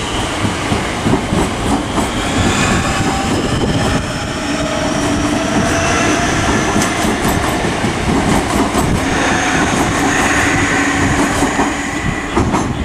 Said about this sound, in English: departing right now is a 12:35 service to London Charing Cross